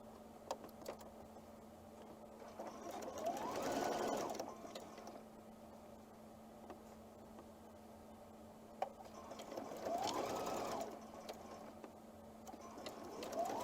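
A sewing machine chain-pieces rows of nine patch quilt blocks in two short bursts of rapid stitching, quiet and close, separated by a stretch of near silence with small handling clicks.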